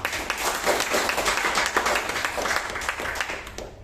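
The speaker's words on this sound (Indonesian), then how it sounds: "Boleh Bapak Ibu tepuk tangan untuk perusahaan kita." A crowd claps together in a dense, continuous burst of applause that trails off at the end.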